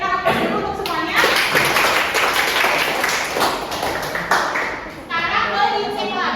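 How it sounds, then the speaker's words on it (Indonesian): A classroom of students bursts into applause during a blood-type testing lesson, with dense, steady clapping filling several seconds amid children's voices before it tapers off. "Berikan aplaus dulu untuk semuanya"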